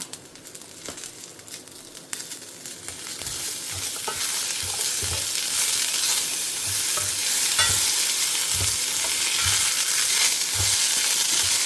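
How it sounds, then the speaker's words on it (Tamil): Grated coconut and a little asafoetida roast in a pan, with a steady crackling sizzle that builds and holds, broken by scraping and crinkling stirs at an uneven rhythm, close and fairly loud with no talking. "செவக்க வறுத்துன்ட்டு இதை அரைச்சி எடுத்துக்கலாம்"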